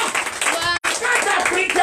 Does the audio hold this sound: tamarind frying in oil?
no